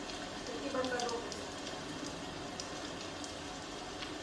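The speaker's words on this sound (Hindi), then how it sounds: "ये शनिचरी बारिश थमने वाली नहीं है।" Rain falls as a theatre play sound effect, a steady soft patter filling the stage space at a moderate level, with brief voices audible over it.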